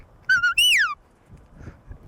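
A shepherd's whistle gives a Border Collie look-back command: a quick pair of high chirps followed by a long, falling swoop, loud and close, then quiet outdoor noise on an Appalachian farm.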